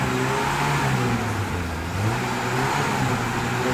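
A Volkswagen Caddy engine revving during a vehicle inspection, a steady mid-pitched drone with wavering rises in pitch, moderately loud and continuous with no talk.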